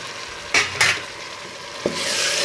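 Soft sizzle of saag greens hitting hot tempering oil, with a couple of scraping stirs and a light clank of a pan.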